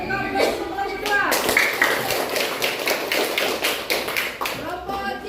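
Classroom applause for a student presentation group: a burst of scattered hand clapping from many people in a room, moderately loud and fairly continuous for several seconds.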